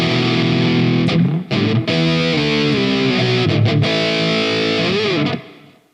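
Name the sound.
electric guitar with distortion effect via Tonebridge app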